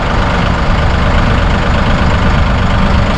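A Massey Ferguson 1M.40 eHydro compact tractor engine idles steadily outdoors, heard from a short distance as a continuous, even diesel rumble with no talk.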